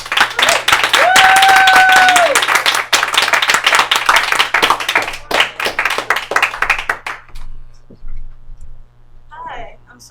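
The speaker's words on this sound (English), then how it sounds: "give a round of applause for Felisa Cal." Audience applause and clapping at a live stand-up comedy night greet the next comedian, a dense burst of hands that thins out over several seconds, with an emcee's voice and a brief whoop over the top.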